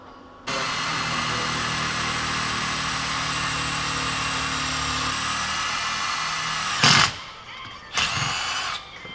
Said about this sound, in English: Just drilling some bolts out.